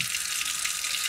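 Steady hiss of water running from a tap into a sink, constant and close, alone with no voices.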